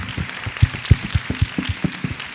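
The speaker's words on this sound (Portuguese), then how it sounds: "Dá uma salva de palmas pra Gi." Brief applause from a small group during a casual Brazilian lifestyle chat, with a few close, uneven claps thumping in quick rhythm for a couple of seconds.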